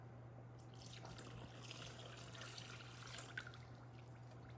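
Water poured into cake mix in a cup makes a steady soft trickle that runs the whole time, close by and fairly quiet, with no talking.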